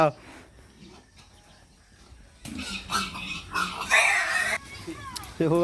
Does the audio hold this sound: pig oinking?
yes